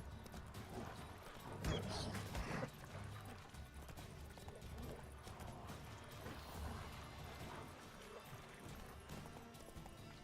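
Horse hooves clip-clop in a steady galloping rhythm in The Witcher 3 video game, fairly faint, with mechanical game noises and occasional faint voices.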